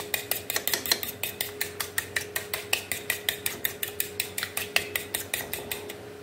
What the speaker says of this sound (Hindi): इसको मिक्स करें अच्छे से, देखिए बीट करें इसको अच्छे से।